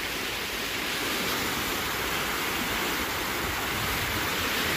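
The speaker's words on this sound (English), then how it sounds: "Water will rush out." Water rushing out through opened canal lock gates at the Tenney Locks in Madison, Wisconsin, a loud, steady roar of turbulent flow that holds constant for the whole stretch with no voices.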